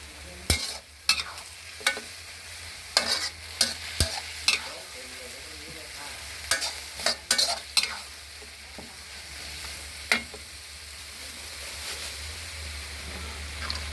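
Noodles and bean sprouts stir-fried in a pan, a steady sizzle under repeated sharp scraping and clanking strikes of a utensil at an uneven rhythm, close and fairly loud.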